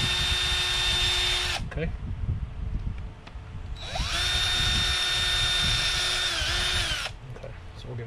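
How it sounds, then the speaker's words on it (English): A power drill with a long bit bores through the bottom layer of a PVC pipe in two loud, whining runs with a short pause between them, and a person speaks briefly. "you need a drill bit that's obviously long enough, and we're going to go into this pre-drilled hole, and we're just going to go through the bottom of the PVC"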